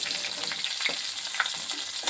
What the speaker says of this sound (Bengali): ভালোভাবে ভেজে নিচ্ছি।